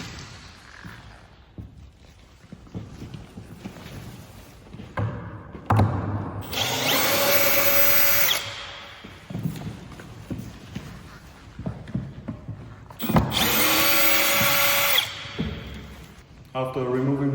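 Power drill unscrewing the screws that hold the lever in place during assembly of an Enzo unit, with two loud whirring bursts and scattered clicks and handling knocks between them, while a voice speaks over the quieter stretches.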